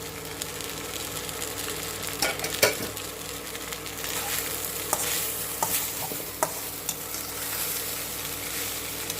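Poha with carrot is stirred in a sizzling pan, a continuous close frying hiss broken by scattered scraping knocks of the spoon against the pan, with no speech.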